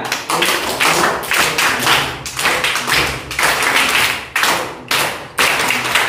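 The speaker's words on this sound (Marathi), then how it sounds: "आपण त्यासाठी जोरदार टाळ्या वाजवूया।" A room of schoolchildren claps loudly and enthusiastically in dense, ragged bursts, with short dips between waves of applause and no talking over it.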